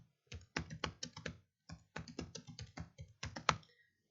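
Computer keyboard typing while entering text during a Visual Basic programming lesson: bursts of close, crisp key taps in quick irregular runs, broken by short pauses, with no talking over them.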